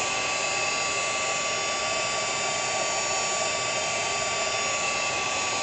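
A heat tool blowing steadily to melt embossing powder on a stamped spider web design, a constant, fairly quiet fan whir with a high whine, unbroken and without talk.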